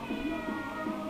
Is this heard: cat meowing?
yes